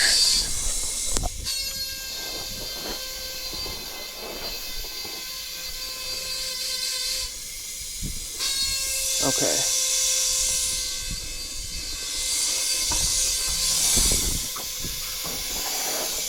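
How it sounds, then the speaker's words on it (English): Air hissing steadily from a leaking cab leveling valve on a truck, with loud bursts of hiss that rise and fall, a few knocks and clanks nearby, and a brief spoken word. "The annoying sound is the tank itself, but it's actually leaking"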